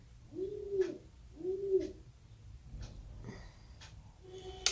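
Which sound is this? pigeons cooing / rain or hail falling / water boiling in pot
pigeons cooing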